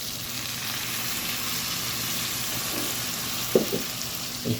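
Ground masala sizzles and fries steadily in a pan of drumstick curry (murungakkai kara kuzhambu), a continuous hiss with a few soft knocks and stirring clunks toward the end.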